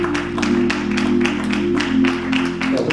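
A church congregation claps in a steady, rhythmic beat during a Sunday service, with many hands sounding together over a low sustained organ or hum.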